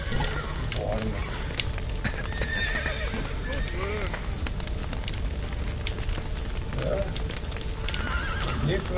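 Horses in The Witcher 3 neigh and whinny at a few points over a dense game soundscape with hoof clip-clop and crackling, while someone talks over it.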